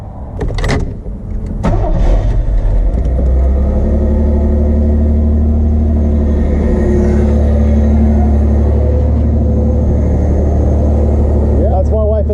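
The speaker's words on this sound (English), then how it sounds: "Can we hear it turn on in there?" A man's dream car cranks briefly, catches and settles into a loud, steady idle with a deep rumble, while people talk over the start.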